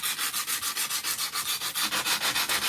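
Edges being smoothed by hand with a piece of sandpaper, a close, loud, evenly rhythmic back-and-forth rasping of about six strokes per second, with no talking.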